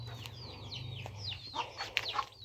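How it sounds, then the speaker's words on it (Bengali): Chickens clucking in a home garden, a run of short, rising calls and cackles over a low steady hum, close and moderately loud, with no talk. "দেখেন মুরগিগুলো কেমন করতেছে"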